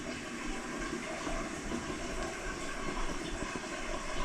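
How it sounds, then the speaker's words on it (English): A toilet in a bathroom being flushed while a clogged sink is cleaned, giving a steady, continuous rush of water that holds for several seconds, fairly close and alone with no talk. "We'll flush it a few more times."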